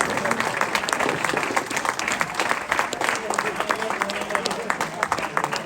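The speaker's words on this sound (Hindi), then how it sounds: "बहुत सारी तालियां" An audience at a comic poetry gathering (mushaira) bursts into sustained, dense clapping that stays steady and fairly close throughout, with some voices mixed in.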